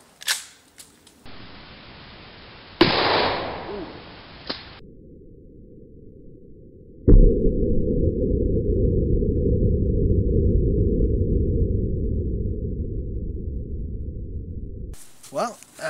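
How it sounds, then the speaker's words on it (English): A shotgun slug fired at an alarm clock gives a sharp, loud report, followed a few seconds later by a second hard impact and a long, steady rush of broadband noise. "Shotgun slug."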